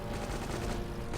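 Enemy machine gun fire in Indiana Jones and the Infernal Machine, a brief unbroken roar of rapid shots, loud and close throughout.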